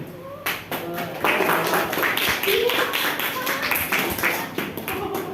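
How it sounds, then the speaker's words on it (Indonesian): Classroom of seventh-grade students applauding, irregular hand clapping of moderate loudness with voices chattering underneath. "beri tepuk tangan"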